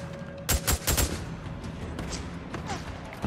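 Gunfire in the video game Days Gone: a tight cluster of loud, punchy shots comes early, then a few scattered bangs stand out over a rumbling background.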